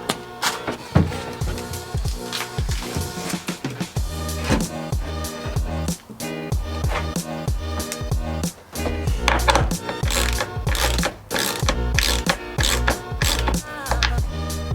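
Bolts being ratcheted tight to fasten a wood subfloor onto an aluminum extrusion frame in a Toyota Troopy interior build, a dense run of rapid clicking ratchet strokes with bursts and short pauses, loud and close.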